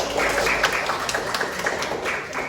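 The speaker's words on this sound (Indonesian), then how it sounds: "Tepuk tangan untuk Mbak Meli" A fifth-grade classroom gives a short round of applause for a student: dense, fairly steady clapping from many hands, lasting a couple of seconds, with no voices on top.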